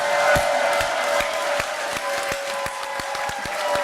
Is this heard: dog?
no